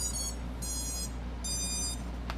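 An Armattan Chameleon quadcopter drone's electronics beeping as it powers up on the bench: three high, sustained electronic tones in a row, then a brief click, over a low steady hum.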